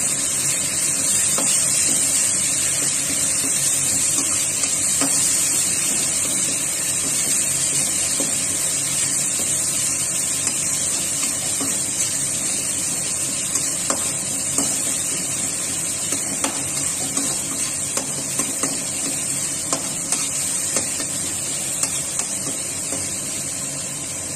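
Onion paste sizzles steadily in hot oil in a pan while being stirred, for Assamese rohu fish kalia, with a constant bright hiss and occasional scraping clicks and no talking.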